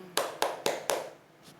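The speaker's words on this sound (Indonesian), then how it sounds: "Ayo kita beri tepuk kepada diri kita masing-masing." A group claps hands together in unison, four sharp, evenly spaced claps, followed by a faint trailing tap.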